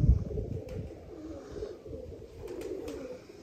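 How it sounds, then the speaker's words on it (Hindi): A large Shahzada pigeon coos softly close by, a low murmuring call repeating over a few seconds in a quiet setting. "ये हमारा बड़ा शहजादा कबूतर है"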